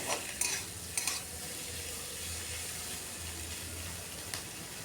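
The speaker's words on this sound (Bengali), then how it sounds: "আর একটু ভাজা ভাজা করে নিচ্ছি।" Coconut frying in a pan for a Kerala-style fish dish makes a soft, steady sizzle, with a few brief clinks of a spatula stirring near the start, quiet and without any voices.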